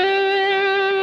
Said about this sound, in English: So just hit both at the same time, and now you immediately kind of have more of a distortion.